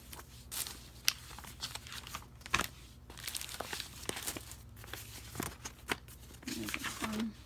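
Crisp tissue paper crinkles and rustles in repeated bursts, close by, with faint voices murmuring underneath.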